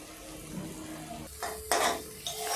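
Water splashes into a pan of frying spice mix for a gima greens and onion dish, giving a few sharp hissing sizzles and stirring scrapes close by, quiet overall with brief bursts.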